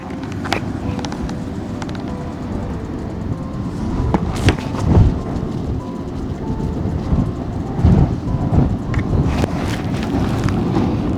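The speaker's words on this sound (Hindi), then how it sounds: "भाई हवा चल रही है खतरनाक" Strong gusty wind buffeting a microphone near a tunnel on a mountain road in Himachal, a loud continuous low rumble with heavier bursts swelling and fading throughout.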